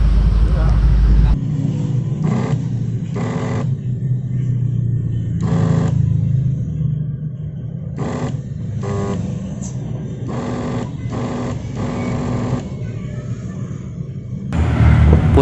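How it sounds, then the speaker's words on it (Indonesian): A Maktec MT370 wood trimmer router with a weak armature runs slowly, giving a steady low motor hum throughout, with brief louder bursts at the start and end and intermittent sharper noises along the way. "kita tes dulu untuk mesin trimmer kayunya"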